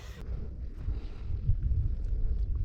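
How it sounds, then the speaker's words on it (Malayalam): Wind gusts buffet the microphone in low, rumbling surges that rise and fall unevenly, with no voices. "എന്താ കാറ്റ്"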